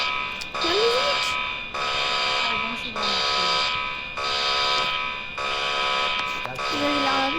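A fire alarm buzzes in repeated loud bursts of about a second each with short gaps between, while people talk over it indoors.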